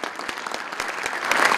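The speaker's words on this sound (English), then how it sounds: "So I think maybe we give a round of applause for them." Steady applause from an audience at a college athlete signing event, many hands clapping at an even level that swells slightly toward the end.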